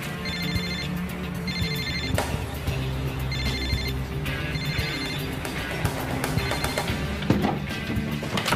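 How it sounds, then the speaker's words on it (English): A telephone rings in a police office, repeated electronic ring bursts in regular pairs with pauses between them, steady and fairly loud over a continuous low background hum. "Hey, Jack, pick up the phone."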